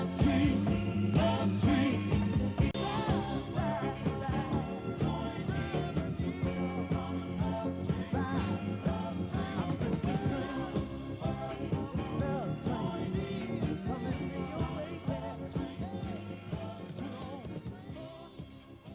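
A soul song plays on the radio, a full band arrangement with steady rhythm and layered vocals running continuously, fairly quiet and slightly muffled.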